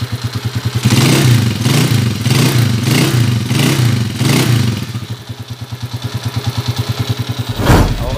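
Honda TMX155 motorcycle with points ignition, its engine running steadily nearby with an even, rapid throbbing pulse that dips briefly before picking back up; no talking.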